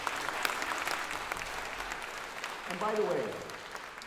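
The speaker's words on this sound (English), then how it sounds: "I absolutely appreciate that you're clapping because it gives me a little break." Audience applause at a mayor's 2019 State of the City address in Pomona, a steady wash of clapping throughout with a voice speaking over it near the end.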